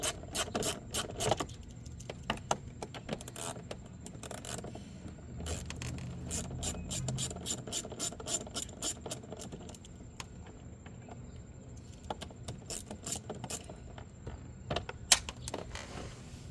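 Repeated clicking and rasping of a 7mm socket ratchet working screws loose on a 2013 Mustang door panel, a steady run of close, sharp ticks in bursts with brief pauses and no talking.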